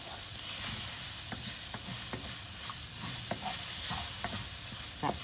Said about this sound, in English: You don't want to have your vegetables burning, so I am constantly stirring them so they are not burning.